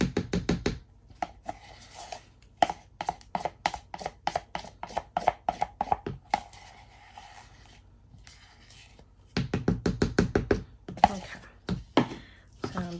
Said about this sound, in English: Going to stir this together, get them mixed up together really, really, really good